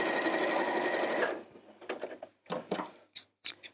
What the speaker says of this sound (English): I did go backwards, just a few reverse stitches to secure the seam